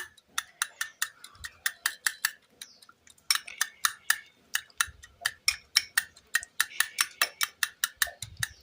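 Repeated taps of a utensil mashing ingredients with lemon juice in a bowl, a steady run of sharp, clinking strikes at a quick even rhythm, fairly close, with soft low thumps between some strikes.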